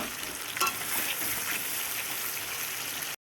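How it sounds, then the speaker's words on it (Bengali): Soaked ground spice paste of turmeric, coriander and chilli frying in a pan for biryani, a dense continuous sizzle with a few scraping stirs near the start, close and steady, no talking. "এটা দিয়ে আবার ভালো করে মশলাটাকে ভালো করে কষাবো"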